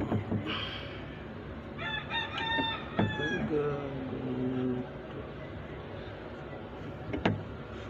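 A fighting rooster crows loudly and close by in one long, drawn-out call, with brief clucks and faint background noise around it.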